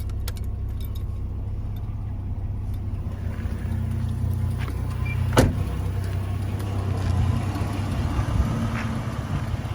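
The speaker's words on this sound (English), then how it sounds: "it's got a really good burble to it" A 1988 Jeep Comanche idling and rolling with a low, steady engine and exhaust burble, joined by a brief sharp mechanical squeak midway and a slight swell near the end, no talking.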